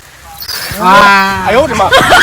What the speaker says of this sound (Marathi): आता शुभम पवार बरोबर ओळखणार कोणता बैल मार्क आहे ते.